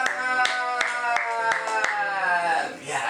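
Children at a Christian religious lesson clap in a quick, steady rhythm, about three claps per second, alongside a sustained tonal voice or music.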